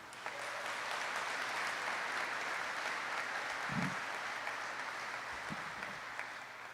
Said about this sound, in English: Please join me in a round of applause for this outstanding team.